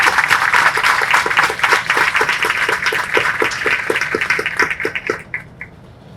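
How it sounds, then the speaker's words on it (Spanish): An audience at an educational session claps in a dense, steady round of applause that thins out and fades after about five seconds. "agradeciéndole sobre todo a Rodrigo, yo pediría un fuertísimo aplauso"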